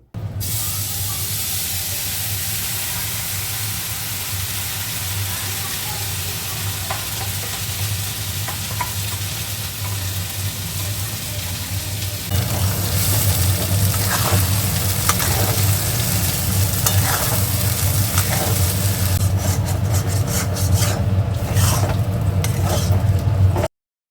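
Green peas for kachori fry and sizzle in a pan while a spatula stirs them, a continuous close hiss that grows louder halfway through, with scraping strokes near the end.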